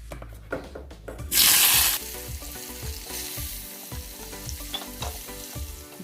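Lote fish, Bombay duck, sizzles in hot oil in a home kitchen, with a loud hiss as it hits the pan, then steady close crackling frying punctuated by regular scraping stirs of a utensil.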